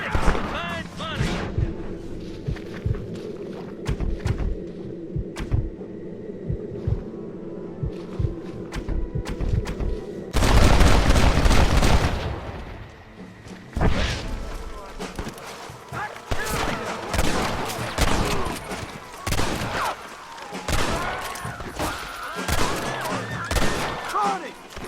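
Gunfire in the Red Dead Redemption video game: dense volleys of shots and heavy booms rattle on throughout, with a loud burst midway, under occasional shouting voices.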